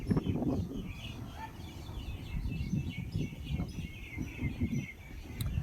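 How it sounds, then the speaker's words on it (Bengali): Several birds call near a forest, with repeated chirps and short whistled phrases at moderate distance over a low rumbling background. "আমার বাড়িতেও এরকম পাখির ডাক শুনতে পাওয়া যায়।"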